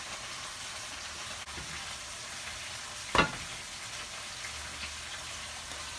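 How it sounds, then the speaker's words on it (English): Rice noodles for Thai pad see ew frying in a pan, a soft, steady sizzle running throughout with one brief clatter partway through and no talking. "I'm just gonna keep on frying this until it's golden brown"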